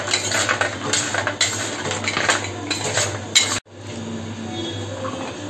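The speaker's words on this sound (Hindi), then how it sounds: "इन सबको अच्छे से मिक्स कर लेंगे" Peanuts tossed with black pepper, salt and chaat masala in a bowl give off steady clinking and rattling from a spoon, loud and close. The mixing cuts off abruptly, then resumes more quietly.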